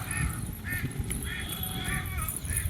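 Geese honking outdoors during a morning walk, a few repeated nasal calls at moderate distance over steady background noise, no one speaking.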